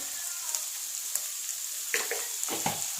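Onions frying in a pan with salt: a constant bright sizzle, fairly quiet, punctuated by several short clicks and scrapes of stirring.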